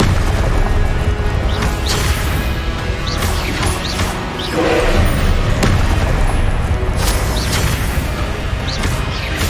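Confringo blasting curses explode during a Hogwarts Legacy spell battle as a dense, loud run of booms and crashes over a steady roar, with repeated bursts and no clear pause.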